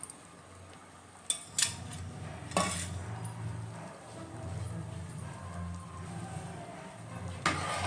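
A spoon scrapes and clinks against a pressure cooker while vangi bath is stirred, a few sharp metallic knocks spaced irregularly over a soft bubbling background, close and fairly quiet.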